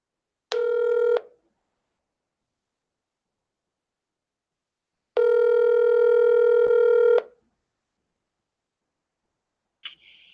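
Telephone ringback while calling a caller back, two separate long ring bursts with silence in between, then a brief faint blip of another tone near the end, no voices.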